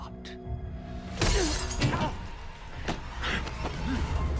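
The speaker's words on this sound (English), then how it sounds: "Broke the glass over your mother-loving head." Glass shatters over a man's head in a TV drama scene, one sharp crashing break standing out clearly over music, with speech around it.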